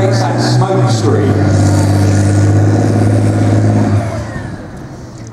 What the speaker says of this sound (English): Challenger 2 can do is it can reverse very, very quickly so it can get out of trouble